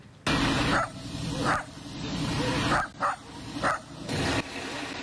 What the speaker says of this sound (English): And that's a service dog helping Ukrainian emergency service crews sniff out